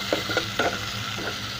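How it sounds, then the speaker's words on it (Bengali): Small shrimp lightly frying in a pan, a close steady sizzle with a few brief scraping strokes on top. "আমি চিংড়ি মাছগুলি হালকা ভেজে নিচ্ছি।"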